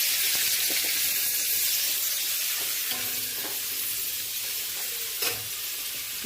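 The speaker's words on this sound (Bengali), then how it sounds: "এই পেঁয়াজ দিলাম, এই কাঁচা লঙ্কা দিলাম, পেঁয়াজটা একটু নেড়ে নেড়ে" Onion and green chillies frying in oil in a pan, a loud continuous hiss with scattered soft knocks and scrapes of a stirring spatula, no voices.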